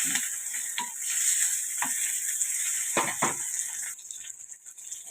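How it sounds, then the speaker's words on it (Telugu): Ingredients fry in hot oil with a steady, close hiss while a spoon scrapes and stirs the pan in several short strokes, the sizzle easing slightly near the end. "ఆయిల్ వేసుకున్నంత కలిసే విధంగా అన్నీ ఈవెన్గా వేగే విధంగా వేయించుకోవాలి"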